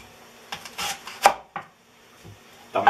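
Knife chopping red pepper and onion on a board for a single-serving seafood stew: several crisp, close chops spaced irregularly, with quiet gaps between strikes.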